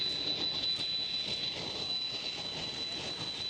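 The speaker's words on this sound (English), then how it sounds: "There goes the A330." An Airbus A330 jet at Schiphol Amsterdam airport roars steadily at a distance, a broad continuous engine rumble with a thin high whine running throughout.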